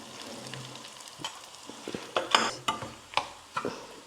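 Kashmiri chili powder and curry leaves frying in hot oil for a Kerala dry fish curry: a close, steady sizzle broken by sharp crackles and stirring scrapes that grow louder and busier toward the end.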